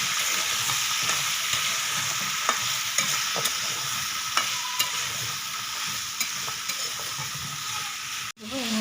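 Vegetables, including pointed gourd, fry in a pan with a steady, soft sizzle while a utensil stirs and scrapes them in repeated light strokes, ending with a sharp knock.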